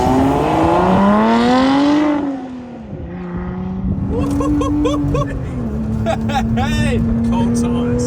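A Lotus sports car tears around a test track, its engine wailing and climbing through gears, with a shift and dip midway. Voices talk over the engine noise.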